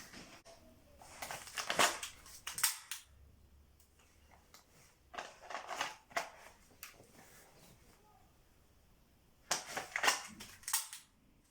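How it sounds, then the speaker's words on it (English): A katana is drawn quickly from a Shinobi Kydex holster and dry fired, giving scraping rasps of plastic and sharp clicks in several short clusters, with quiet handling between. "let's do a quick draw and dry fire"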